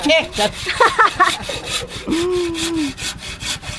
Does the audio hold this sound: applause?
no